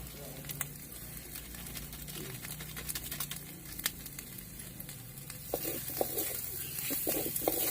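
Onion, chutney and dry masala sautéing in a pan over a wood-fired chulha for dry mutton, a steady close sizzle with scraping stirs and sharper ticks toward the end.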